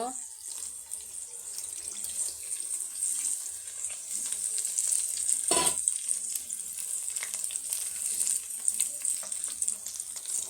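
Quiet, steady sizzling from a pan of roast curry masala with a brief louder burst partway through as water hits the hot oil.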